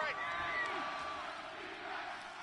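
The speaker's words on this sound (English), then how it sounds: "The crowd here in the Dome making things difficult." Stadium crowd noise in a domed arena during a football video game, a steady roar with faint cheers and whoops rising and falling, moderately loud beneath a commentator's voice.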